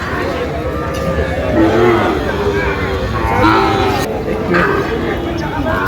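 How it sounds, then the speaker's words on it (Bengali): Sahiwal heifer calves and cattle on a farm in Sylhet, low moos rising now and then through steady crowd chatter and people talking throughout. "গরুগুলো একটু দেখান তো"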